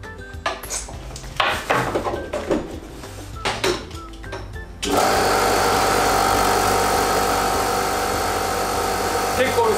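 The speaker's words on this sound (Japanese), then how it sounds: "コンプレッサー、エンジンがかかると非常にうるさいです" An air compressor engine starts indoors in a home garage studio after some clattering and handling noises, then runs loud and steady with a continuous mechanical drone.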